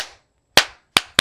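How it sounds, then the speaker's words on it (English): Three separate sharp hand claps from pre-K children in an online learning lesson, spaced unevenly after a short pause, each crisp and close with a quick decay. "Give yourself a hand clap."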